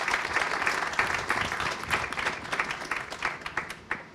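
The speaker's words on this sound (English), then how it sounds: "I think it deserves a round of applause" An audience gives a steady round of applause at a live talk with journalists Roger Cohen and Luke Harding, a dense wash of many hands clapping at fairly even loudness throughout, with no one speaking over it.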